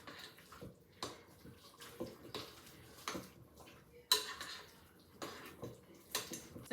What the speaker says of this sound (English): Just gonna kind of stir this around.